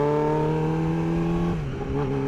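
An Oldsmobile car passes close by a Yamaha R6 motorcycle on a hot road, its engine tone loud and steady before dipping as it goes past, the bike's own engine droning underneath throughout.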